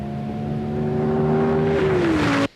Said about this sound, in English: Viper is a back-to-basics high-performance sports car of legendary proportions, the power of a V10 engine